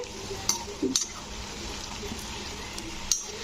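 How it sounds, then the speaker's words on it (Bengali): Semolina pakoras deep-frying in hot oil give a steady close hiss, broken by a few sharp clinks of a utensil against the pan. "তো এই রকম লাল লাল করে ভেজে নিতে হবে"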